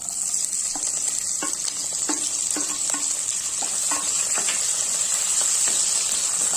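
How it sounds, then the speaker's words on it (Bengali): Chopped onion fries in oil with cardamom and cloves for a chicken and potato curry, giving a steady loud sizzle and hiss with a string of light, irregular stirring clicks throughout, no voices. "পেঁয়াজটা লাল লাল করে ভেজে নেব"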